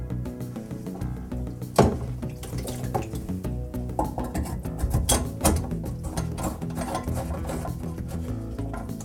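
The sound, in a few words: water running down a cleared sink drain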